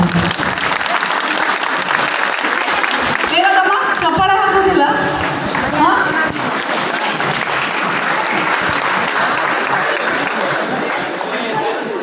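A crowd at a public gathering in Sindhanur applauds after a Karnataka anthem-style song, dense sustained clapping close and loud throughout, with a voice speaking briefly over it partway through.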